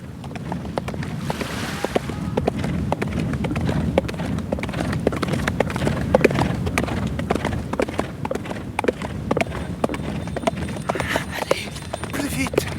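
A horse driven hard at a gallop, hooves clattering in a quick, steady clip-clop over a broad rumbling, windy background, with no voices.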